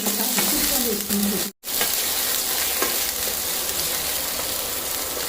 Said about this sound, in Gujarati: આપણું જીરું બરાબર તતડી જાય એટલે એમાં આપણે આપણી સમારેલી 2 નંગ જેટલી ડુંગળી નાખી દઈશું.